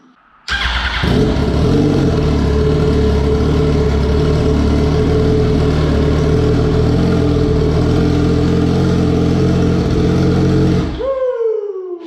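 A 2004 Yamaha R1 motorcycle engine, rebuilt after a wreck, cranks and catches, then runs steadily at a loud, rough idle for about ten seconds before cutting off.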